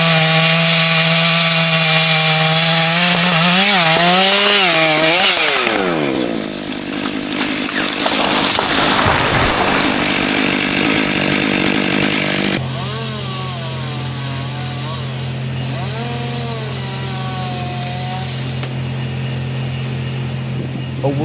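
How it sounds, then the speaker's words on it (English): A large chainsaw cuts into an ancient tree, its engine loud and close, revving up and down in rising and falling whines, then settling into a steadier drone as the bar chews through the wood. "The engine roars, the tree shudders, and grain by grain, the wood begins to crack"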